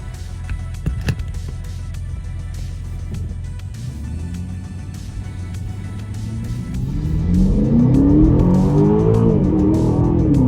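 A 2021 Aston Martin DBX or 2021 Bentley Bentayga SUV accelerates hard, its engine note rising from a low rumble into a loud climbing roar through the gears, heard from inside with no talk.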